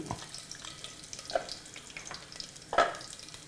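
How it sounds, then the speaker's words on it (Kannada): Cumin seeds crackle and fizz faintly in hot oil, a soft continuous sizzle broken by a few small pops and light clinks from a steel spoon. "ಸ್ವಲ್ಪ ಜೀರಿಗೆ ಹಾಕ್ತಾ ಇದ್ದೀನಿ ಸ್ಟೀಲ್ ಚಮಚದಲ್ಲಿ ಒಂದು ಚಮಚದಷ್ಟು"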